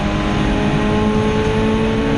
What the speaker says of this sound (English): he's got to get the big heavy car anchored up and pitched into the corner, the 7-litre Holden Monaro of Andy Wilson.